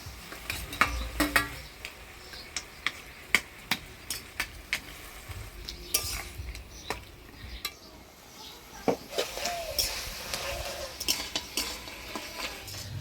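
Greens with turmeric and salt are stirred in a pan for a village-style fish curry, with repeated close scraping and clinking of a utensil against the pan under a faint sizzle.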